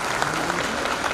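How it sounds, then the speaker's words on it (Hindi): An audience at a university convocation ceremony applauds, a dense, steady wash of many hands clapping at once in a large hall, with faint speech underneath. "सदन तालियों से गुंजायमान है।"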